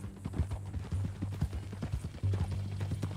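Horse hooves clip-clopping in Red Dead Redemption 2, a steady run of close hoofbeats on the ground with a low rumbling tone underneath, fairly loud and without speech.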